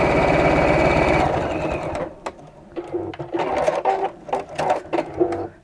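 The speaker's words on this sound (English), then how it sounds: "we'll sew across the edge of that just to hold it in place" A sewing machine stitches across the edge of fabric within the seam allowance, running in a steady loud whir at first, then breaking into short uneven bursts and clicks.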